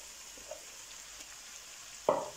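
Minced beef and sliced mushrooms sizzle faintly and steadily in a pan, with a quiet scrape early on and a louder clatter of stirring near the end.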